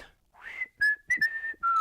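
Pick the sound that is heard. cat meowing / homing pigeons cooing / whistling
whistling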